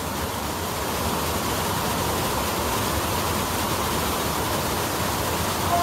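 Whorneyside Force waterfall in the Lake District roaring, a loud, steady broadband rush of falling water close by that stays constant throughout with no speech over it.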